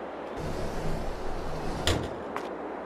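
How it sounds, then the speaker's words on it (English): A door opens in the Farming Simulator 22 video game: a soft thump and swing over a low ambient hum, with a sharper knock near the end and a fainter one after. "Open door."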